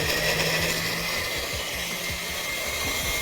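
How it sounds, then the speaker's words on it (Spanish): Loud, continuous whir of a blender grinding a salsa of rehydrated, seeded guajillo chiles with salt and pepper, with a steady motor drone and rhythmic churning, no talking. "mientras se está moliendo mi salsa"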